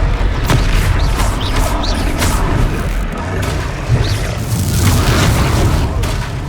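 Fiery Confringo spell blasts go off during combat in Hogwarts Legacy: a string of loud, punchy booms and crackling impacts over a dense, busy battle backdrop.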